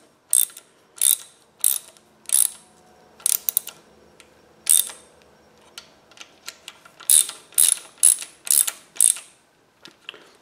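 A ratchet tightens connecting rod cap bolts on a small-block V8 during a rod bearing install, in about a dozen short, crisp bursts of clicking separated by quiet pauses, close and clear.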